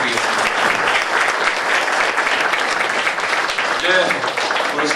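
At the close of a book concert on labour poverty and land justice, the audience breaks into sustained, loud applause, many hands clapping evenly with a brief voice near the end.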